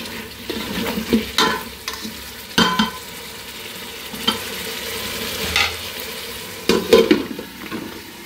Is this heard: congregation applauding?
no